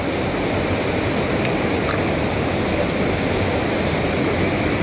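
River water flows in a steady, dense, unbroken rush in a desert stretch along the Pacific Crest Trail, loud and close with no voices over it.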